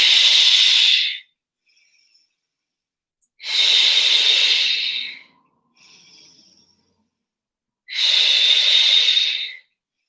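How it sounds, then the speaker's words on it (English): A person breathes deep and heavy while holding a leg stretch, with three long, loud, hissing breaths spaced a few seconds apart and a softer, shorter breath between the second and third. "So your breathing should be as loud and heavy as mine"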